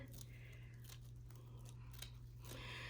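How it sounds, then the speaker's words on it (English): Scissors snip through the bubble part of a craft wreath in a few short, quiet cuts, close by over a steady low hum. "I'm gonna go ahead and cut this part off right here."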